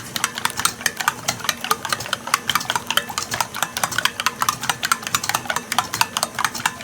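A spoon beats banana bread batter with chocolate chips in a bowl, giving a fast, steady run of sharp clacks and scrapes that repeat evenly for several seconds at close range with no talking.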